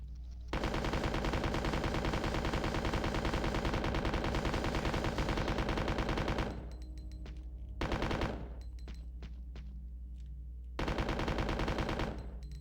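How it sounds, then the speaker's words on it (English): Sustained machine gun fire from the N64 version of Resident Evil 2 roars in long, dense, loud bursts, the first lasting about six seconds, then shorter volleys separated by quieter gaps of lighter game sounds. "Maybe I should use a machine gun on this guy."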